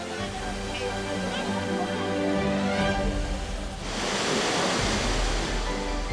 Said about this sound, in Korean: 우와, 저기 또 멋있는 폭포가 있어요